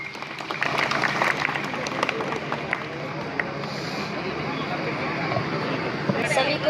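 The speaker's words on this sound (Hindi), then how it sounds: "उनके लिए जोरदार तालियां" A school summer camp audience claps for a singer, with scattered, fairly loud applause and babble mixed with speech that fades into a steadier murmur.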